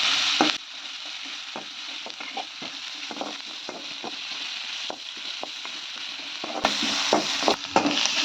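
Sliced onions and slit green chillies sautéed in a pan for poori potato masala, a close hissing sizzle with frequent scraping and tapping spatula strokes, louder bursts at start and end.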